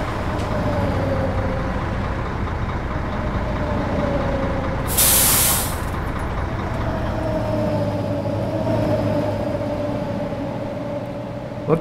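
A bus pulls to a stop in Euro Truck Simulator 2, with a steady engine drone and one loud, sharp hiss of air brakes releasing midway.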